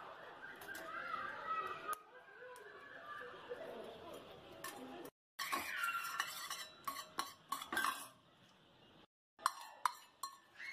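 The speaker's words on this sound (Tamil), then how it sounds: "இதே நெய்யில் வந்து நம்ம ஏலக்காவோட தோல் உரிச்சிட்டு அந்த விதையை வந்து அந்த சூட்லேயே நம்ம வறுத்தெடுத்துக்கலாம்" Cardamom seeds roasting in hot ghee while preparing groundnut laddoos, soft clinks and scrapes of a spoon against a pan with light stirring, two brief silent gaps, and faint background chatter.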